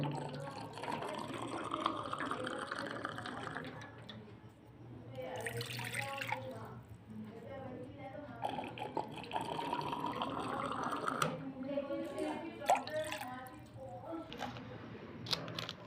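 Water pouring into a pot to make kehwa at home, a faint trickling stream that rises in pitch as the pot fills, broken by clinks and splashes, with quiet background noise and no talking.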